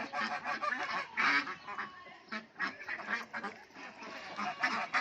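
A flock of domestic ducks and geese quacks and honks continuously and close by, with overlapping calls and no pauses.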